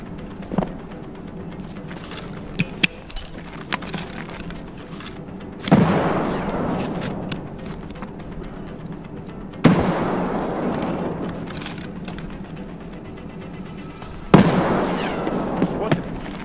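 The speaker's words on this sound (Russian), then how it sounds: "кто-то с серверов тоже сюда стреляет" Gunfire and blasts in the Escape from Tarkov shooter, several sharp loud reports with long rumbling tails spaced seconds apart, smaller distant shots between them, while someone talks quietly.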